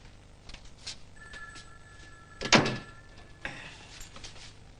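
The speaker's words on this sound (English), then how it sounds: "close the door." An office door being closed, heard as a short sharp thunk midway, loud against a quiet room backdrop, with faint faint tones and a softer knock afterward.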